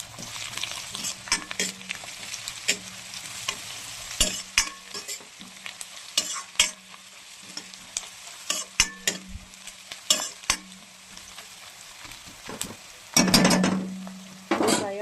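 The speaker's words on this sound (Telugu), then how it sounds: "దీంట్లోకి కొంచెం కరివేపాకు వేద్దాం దీంట్లోకి కరివేపాకు వేద్దాం" Curry leaves dropped into a pan of frying curry (a Telugu home dish) and stirred, with steady sizzling, repeated scraping and clinking of the spoon against the pan, and a louder burst of sizzle near the end; no talk.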